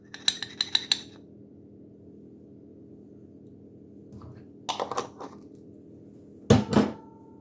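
A spoon clinks against a bowl while chili powder and smoked paprika are stirred into a seasoning blend for spiced pumpkin seeds, in three short bursts of light metallic tapping separated by quiet pauses.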